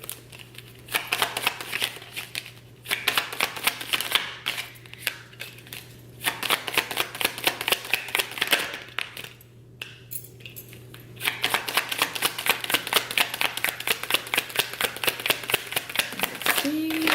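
Tarot cards are shuffled in rapid, crisp riffling bursts, close and fairly quiet, with short pauses as cards are drawn, while someone talks over the handling.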